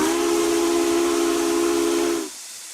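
An American steam whistle in the RO-Scale Sandbox train game gives one steady, loud, hissing blast of about two seconds, then cuts off abruptly.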